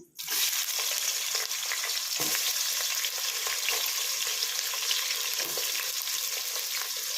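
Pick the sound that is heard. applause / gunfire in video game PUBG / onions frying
onions frying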